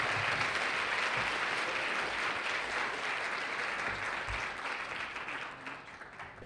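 Applause from a conference audience at the 2017 HEAL Summit welcoming a keynote speaker, a steady dense wash of clapping from a large crowd that holds throughout and tapers slightly at the end.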